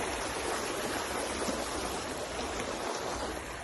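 Steady rushing of a flowing river in the Philippines fills the whole stretch, a broad even hiss with no talk, close and fairly loud.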